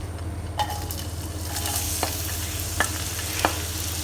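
Red onion, shallots and garlic frying in oil in a pan, a steady close sizzle with occasional scraping stirs and light clicks from a utensil. No one speaks.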